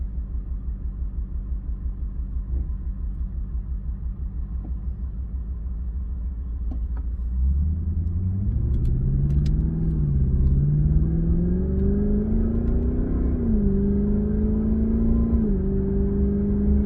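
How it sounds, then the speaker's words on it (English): A deep V8 engine in a Lexus LS460 with the muffler removed idles with a low rumble, then growls as it accelerates past about 3,500 RPM, pitch climbing steadily through the gears, heard close from inside the car. "The engine does make a really nice growl, but it's kind of like a refined growl."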